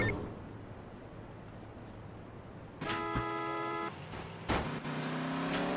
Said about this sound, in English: we get to hear the best engine sound of the game